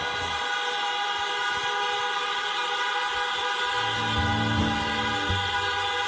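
Car horns honk together at a church gathering, their sustained tones overlapping in a steady, layered blare that swells slightly toward the end.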